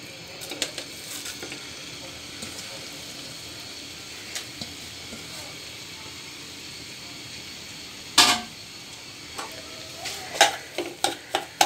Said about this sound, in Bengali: দিয়ে আমি ঘিয়ের মধ্যে সামান্য একটু ভেজে নেব।